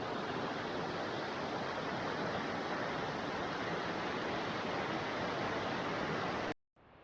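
Creek running behind a backcountry hut on New Zealand's West Coast: a constant, even rushing of water, fairly close and alone, cutting off abruptly just before the end.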